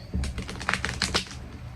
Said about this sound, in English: I will go ahead and shuffle one more time for you here.